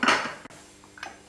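A cast iron saucepan set down for boiling water with onion skins and bay leaf, one sharp metallic clank with a short ring, then a faint rattle near the end, close by.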